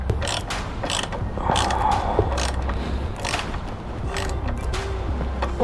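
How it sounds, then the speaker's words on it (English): Small screw and nut being tightened on a Yamaha YFZ450R ATV foot peg, with faint intermittent tool clicks and scrapes over steady low background noise. "now we just need to tighten up this little screw and bolt, or nut and bolt"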